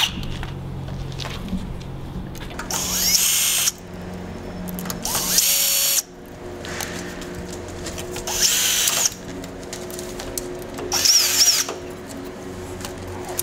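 A power drill or driver backs small screws out of the cover panel on a push bar exit door, coming in several short whining bursts separated by pauses.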